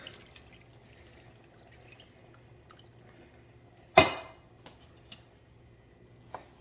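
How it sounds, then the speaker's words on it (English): A can of water tipped into a pot of homemade chili made with ground chicken gives one sharp splash, followed by a few small drips in an otherwise quiet kitchen. "So I added in 1 can of water, and we're just going to stir it up"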